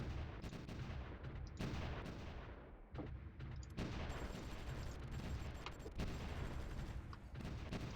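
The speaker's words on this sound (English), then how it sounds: "I can just keep lobbing rounds down" Artillery shelling in the Supreme Ruler Ultimate strategy game, set in a German Empire 1914 campaign: dense, continuous volleys of booming gunfire, loud and overlapping, with repeated sharp blasts throughout and no talk.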